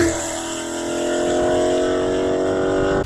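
A car fitted with a CORSA exhaust system drones loud and close, a steady throaty rumble that swells slightly as it goes, with no talk over it.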